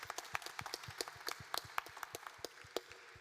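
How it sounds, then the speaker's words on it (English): A festival launch event crowd claps for the mothers and fathers in the room, a fairly quiet, loose scatter of individual hand claps with distinct separate hits rather than a dense roar. "I just want to give a round of applause to both the mum and the dads in the room"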